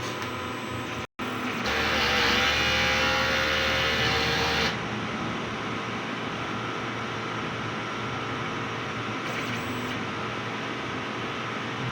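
A DTF printer runs its head clean cycle with a brief click, then a loud whirring pump-like drone for a few seconds, settling into a steady lower mechanical hum.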